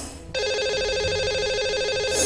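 A telephone rings while a radio show dials a caller, a steady electronic ringback tone that starts abruptly and holds loud and even for about two seconds.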